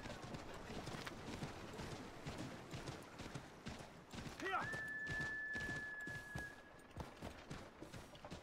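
Rapid hoofbeats of a horse in Assassin's Creed III clatter in a steady galloping rhythm throughout, with a brief high whinny-like cry near the middle.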